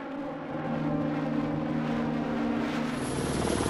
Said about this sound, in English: The X2 technology enables the Sikorsky S-97 Raider aircraft to travel